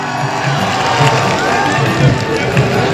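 Large crowd at a Gujjar festival stage show at Surajkund Mela applauding to welcome the women hosts, a dense continuous wash of clapping and cheering, loud and steady throughout.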